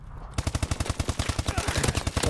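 Rapid automatic gunfire from the video game Call of Duty: Advanced Warfare rattles in a steady, fast burst, loud and close, continuing for about two seconds.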